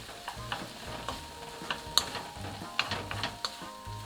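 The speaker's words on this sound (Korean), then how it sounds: "볶아줍니다." Ham, zucchini and onion stir-fry in a pan under a continuous sizzle, while a utensil scrapes and taps at an irregular pace close by.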